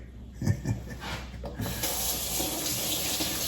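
Tap water running into a sink while a dropped oxtail is rinsed off, starting with a few knocks and splashes before settling into a steady, close rushing stream.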